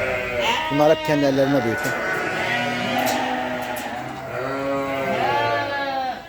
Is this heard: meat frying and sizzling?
no